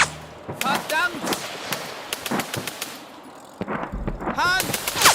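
Sharp bangs from a Russian artillery battery crack across a meadow in a WWII short film, some close and loud, some more distant. Agitated shouting voices come between the shots.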